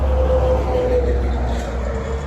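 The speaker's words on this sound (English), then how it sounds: "Trucks are loud too." A loud truck rumbles past close by, a dense, steady low roar with a faint tonal whine that holds for a couple of seconds and eases slightly at the end.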